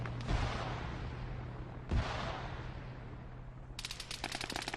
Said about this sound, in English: I heard a bit of incoming fire